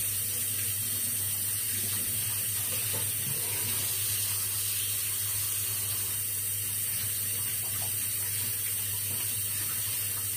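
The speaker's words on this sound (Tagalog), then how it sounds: "Maghuhugas na ako ng kamay." Kitchen tap runs steadily and alone as hands are washed in a sink after preparing baked meat with potato and onion, a constant close water rush with no talk.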